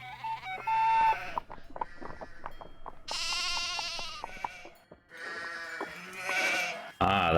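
Sheep in the Nancy Drew video game The Haunting of Castle Malloy bleat in a series of loud, wavering calls, several overlapping, close by and separated by brief pauses, with no talking.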